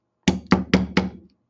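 The back of a screwdriver tapping a part of a 9mm Springfield Armory Ronin Operator 1911 pistol during reassembly: four sharp, evenly spaced knocks in quick succession, close and clear with no talk.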